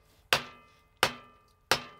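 Three evenly spaced, sharp hammer blows strike the concrete of an old abandoned safe, each a loud metallic crack with a ringing tail that fades before the next hit.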